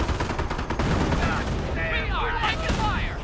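Rapid gunfire in the Company of Heroes game, dense bursts of rifle and machine-gun shots crackling over a busy battlefield, with tonal game sounds toward the end.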